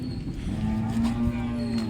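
A cow moos with a long, steady, low call at a busy cattle market in Modnimb, heard close and clear over a murmur of background crowd noise.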